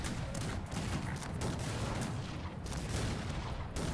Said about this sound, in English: now here come howitzers and regular cannons.